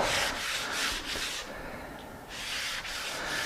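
Grain filler is rubbed by hand into a wood test sample from a bombe chest on chest finishing project, a close, rhythmic scrubbing and rasping with repeated strokes and a short pause in the middle.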